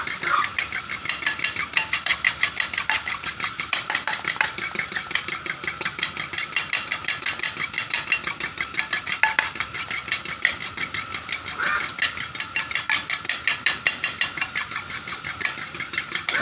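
Eggs are whisked briskly in a bowl for breading fish, with a fast, steady rhythmic tapping and clinking of utensil against the dish that continues evenly from start to finish, close and moderately loud.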